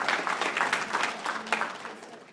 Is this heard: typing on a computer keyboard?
no